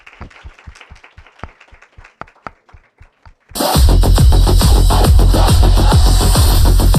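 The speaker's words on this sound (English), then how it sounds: "Everyone give a round of applause for her." An audience at an award ceremony applauds a second-place prize winner: a few scattered claps build suddenly into a loud, dense wave of clapping from a full crowd.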